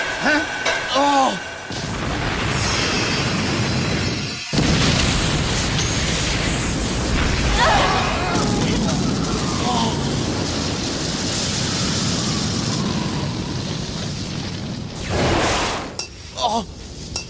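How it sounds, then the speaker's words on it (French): A cartoon explosion from a spinning top's stellar attack in a Beyblade battle roars as a long, loud, noisy blast with shattering crashes, briefly broken by a cut, while excited voices shout over it. "L'explosion stellaire de Pegasus n'aura pas été suffisante!"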